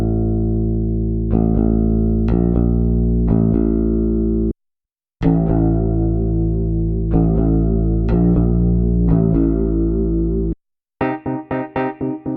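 Sustained synth tones from an Elektron Digitakt II sampler pass through its new chorus send effect, long shimmering held notes with sharp attacks, a brief gap, then a fast series of decaying plucked hits at the end.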